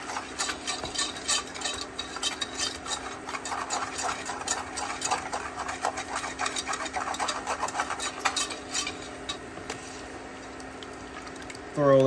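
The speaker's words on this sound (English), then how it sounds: "Give that a mix. Just let that flour cook out just for a quick second." A spoon working flour around a hot pan for a lamb gravy, giving repeated scraping strokes in an uneven rhythm over a low sizzle, close and fairly loud, easing off near the end.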